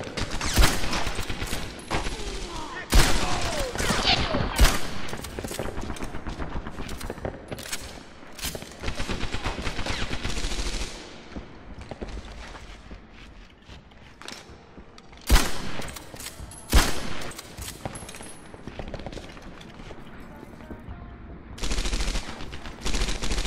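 Machine gun fire and rifle shots in the Medal of Honor Airborne video game rattle in loud, dense bursts, some close and sharp, some more distant, broken by quieter stretches, with no talk.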